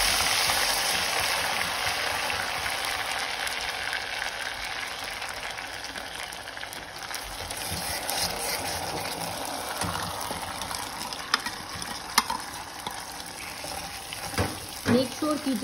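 Semolina for suji halwa sizzles in hot oil in a pan and is stirred, a steady crackling fry with occasional scraping clatters toward the end, under someone talking.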